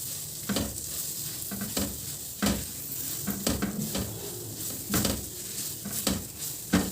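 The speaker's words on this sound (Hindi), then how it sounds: "अभी इसके अंदर मैं खोपरा और किशमिश ऐड करूँगी और 1 से 2 दफ़ा चम्मच हिलाएंगे हम" A spoon stirs roasted semolina halwa with coconut and raisins in a hot pan, giving soft sizzling and repeated scraping and clinking strokes at an irregular rhythm, close and fairly quiet.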